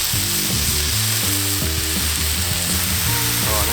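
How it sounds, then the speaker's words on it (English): Bacon sizzles and crackles on a Camp Chef flat-top griddle, a loud, steady frying hiss with continuous popping, heard up close and alone. "we're gonna put on some bacon here"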